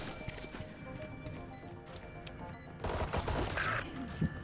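Gunfire in the tactical shooter Valorant, with a few sharp shots and bursts over a dense layer of game noise, getting louder in a busier stretch near the end.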